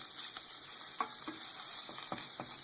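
Shrimp frying in a pan give a steady crackling sizzle with repeated sharper pops and spits, close up and with no voices over it.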